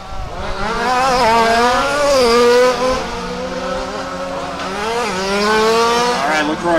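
Race cars lapping a track at Warm Springs, engines rising and falling in pitch as they rev through corners and down a straight, loud and sustained, with tire squeal mixed in.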